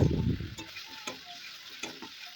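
Masala with green chilli, ginger and garlic paste being stirred and fried in a pan, giving a soft sizzle with a few scraping strokes, loudest at the start and then quieter.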